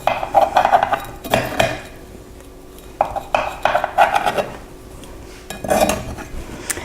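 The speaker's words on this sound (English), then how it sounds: "Well, cornbread is ready to cut." Knife or spatula clinking and scraping against a baking pan while pepper cornbread is cut, in several bursts of metallic scrapes and taps separated by short pauses, close and fairly loud with no talking.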